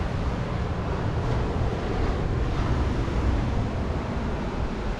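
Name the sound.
waves crashing on a beach in Vietnam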